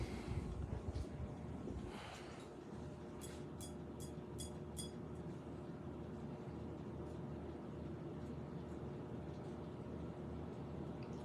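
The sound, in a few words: Broan 52-inch ceiling fan running on high speed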